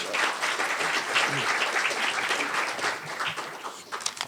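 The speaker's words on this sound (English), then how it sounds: "One more time, round of applause." Sustained audience applause fills a chamber of commerce luncheon in a hotel banquet room, dense steady clapping from a sizable crowd that holds level and tapers slightly near the end.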